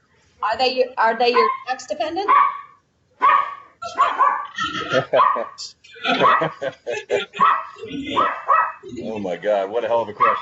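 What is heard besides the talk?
dog barking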